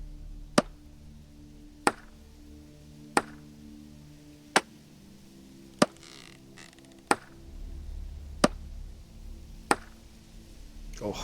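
Axe chopping wood in the video game Vintage Story: eight sharp, evenly spaced chops about every 1.3 seconds, each crisp and clear over a low ambient background.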